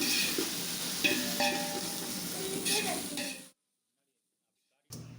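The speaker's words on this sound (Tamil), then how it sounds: "இஞ்சி பூண்டு பேஸ்ட் எடுத்து அது கூட சேர்த்து மறுபடியும் நல்லா வதக்கணும்." Onions with ginger garlic paste sauté in a pan for mutton dum biryani, a steady sizzle with scraping stirs and light clinks for about three and a half seconds, then silence before a short return of sizzling.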